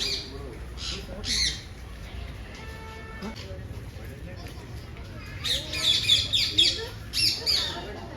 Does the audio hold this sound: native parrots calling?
yes